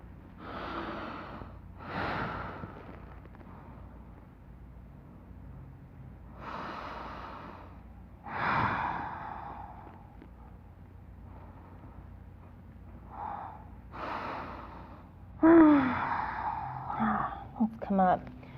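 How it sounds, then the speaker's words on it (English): Deep breaths in a relaxing yoga flow class, slow audible inhales and exhales spaced several seconds apart, close to the microphone with soft sighing and nasal airflow. "Let's all breathe for 3."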